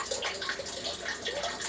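Water runs steadily from an Aquaguard Blaze Insta RO+UV purifier into a container, a short continuous close splashing flow with no other sounds.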